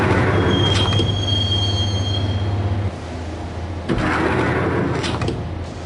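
A subway train rides along in the video game Max Payne, its wheels squealing with a high steady tone over loud rumbling rail noise, the rumble easing midway before rising again.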